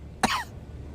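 A man gives one short, sharp cough at the entrance of a rotten, abandoned house reeking of damp and mold, followed by quiet room tone.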